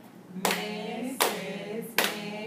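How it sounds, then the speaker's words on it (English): Children clap three times in an even, deliberate rhythm, each clap sharp and close with a short ring after it. "Can you clap it?"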